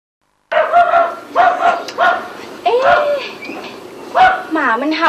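A dog barks and yips in quick, close bursts with whimpering tones between them, loud and fairly regular over a few seconds after a silent start.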